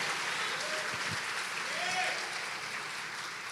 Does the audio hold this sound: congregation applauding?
yes